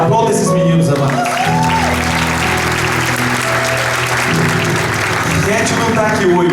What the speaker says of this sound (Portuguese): Aplauda esses meninos, amados.